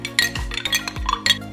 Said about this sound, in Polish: Mąkę dobrze wymieszam w wodzie.